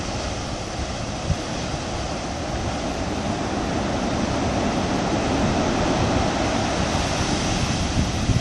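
Ocean surf breaking continuously on the shore near the port at Reunion Island, a dense, steady roar that fills the whole stretch without pauses, mixed with some wind and no voices.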